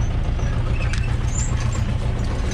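An Ursus C360 tractor engine runs loud and close with a steady low throbbing rumble as it is given throttle, holding an even drone for a few seconds.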